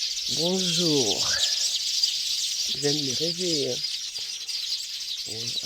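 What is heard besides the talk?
birds singing in the morning on a farm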